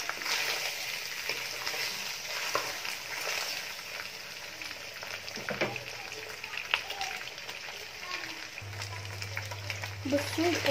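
Lamb tail fat rendering in a pot into ghee, a soft low sizzle and bubbling with occasional spoon scrapes from stirring, faint and close, with someone talking over it.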